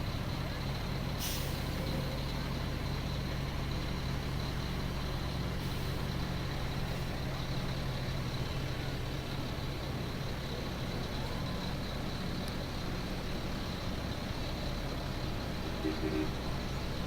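Large trucks rumbling along in an Oshkosh holiday parade, a steady dense engine drone with brief hissing bursts and faint beeps, while people talk throughout.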